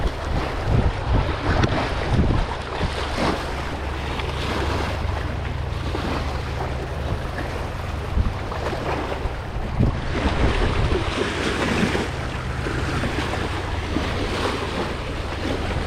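Loud, choppy sea waves slap and rush around a small boat out cuttlefish hunting, while strong wind buffets the microphone with a constant roar for the whole stretch.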